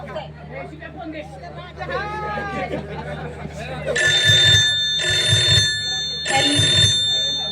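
A telephone rings in three loud, evenly spaced bursts after people talk indoors, with chatter continuing beneath the rings.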